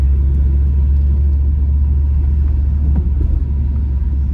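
A loud, deep Sportex aftermarket exhaust drone rumbles steadily from inside a Mk4 VR5 Golf, low and throaty with no talking.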